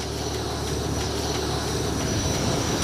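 A Chilean Air Force helicopter fills the scene with a loud, steady, broadband roar and faint rhythmic rotor pulsing, heard close and without any voices over it.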